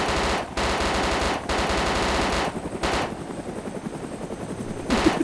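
Rapid bursts of automatic gunfire fired at a low-flying helicopter in the video game DayZ, several sustained volleys with short gaps over the steady thrum of rotor noise.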